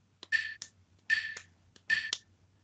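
Hand claps mark a steady pulse during a guitar lesson, three evenly spaced bursts of clapping about 0.8 seconds apart, each a sharp cluster of close, crisp hits with no talking.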